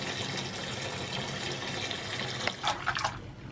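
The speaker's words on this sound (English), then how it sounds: "I'm going to run some warm water and some of this shampoo into the washing up bowl." Warm tap water runs steadily into a washing-up bowl with shampoo, a continuous close hiss of flowing water ending in a few splashy gurgles and drips.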